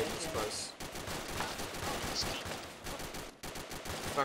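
Rapid bursts of automatic gunfire crackle in the Arma 2 military game, with dense volleys that pause briefly before resuming, and a voice speaks over the shooting.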